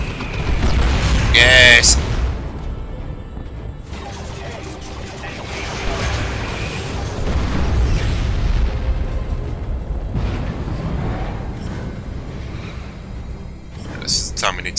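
Rockets fired at a platform in the video game Dawn of War 2, with heavy booming blasts and crashing explosions rolling on through the stretch, a loud burst near the start and another near the end, while someone talks over them.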